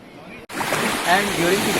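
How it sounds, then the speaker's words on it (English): Ocean waves at high tide rolling onto an Andaman island beach: a steady, loud broadband wash of surf that starts abruptly after a brief gap and continues without pause. "the waves are at their peak and you can actually experience the sea at its best"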